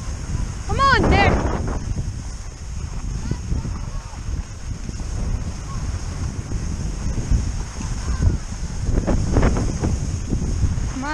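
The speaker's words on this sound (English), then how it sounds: "the wind's so freaking loud" Strong wind on a ski slope roars steadily across the microphone in loud, continuous gusts, with brief distant voices mixed in.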